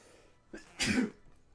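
A single sharp sneeze bursts out close by, preceded by a brief intake of breath, then quiet.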